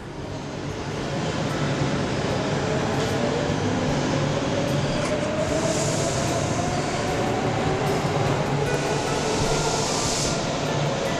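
Rumbling metro train ride in Tehran, a steady loud roar of wheels on rail with a faint rising motor whine, continuous throughout with no talk.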